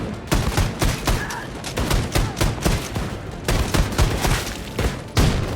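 Loud, rapid gunfire from a modern Wolfenstein game as Nazis are shot, with dense bursts of shots and impacts cutting in and out in quick succession throughout.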